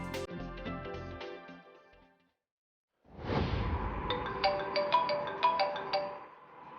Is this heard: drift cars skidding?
no